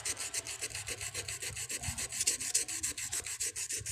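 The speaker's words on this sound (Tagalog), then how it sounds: "kailangan nating lilihain para bumalik sa kinis" Rapid rhythmic back-and-forth sanding strokes with sandpaper, close and crisp, about five strokes per second, with no voices.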